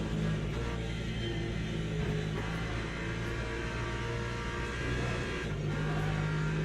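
A hypercar engine in the Le Mans Ultimate racing game drones steadily at high revs, a continuous loud rumble with slight pitch shifts and no breaks.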